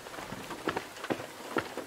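Rain falling in the video game DARQ, soft patter with a few distinct drops hitting a surface in a quiet, moody atmosphere.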